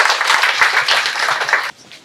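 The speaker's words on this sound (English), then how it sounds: "I think you deserve a big round of applause" Applause from a crowd at an autism awareness walk in Georgetown, a steady dense clapping that stops abruptly near the end, leaving fainter scattered sound.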